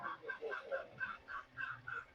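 Chickens at a poultry shop cluck in a quick repeated rhythm, fairly faint and a little distant, with no one talking.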